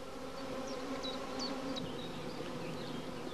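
Honeybees buzz steadily and densely around a hive in an apiary as a swarm settles around a caged queen, with a continuous close hum and scattered sharper whines of individual bees flying past.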